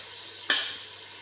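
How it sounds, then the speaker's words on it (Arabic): Onion, spices and canned tomato for berkoukes hit a hot pan in one quick hiss of sizzling, which then fades into a low crackle. "ونقليهم حوالي 10 دقائق هكذا"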